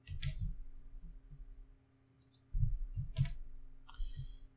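A computer mouse clicks a few times, sharp close taps scattered among soft handling noises over a low steady hum.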